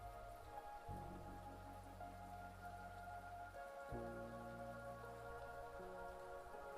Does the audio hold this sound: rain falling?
yes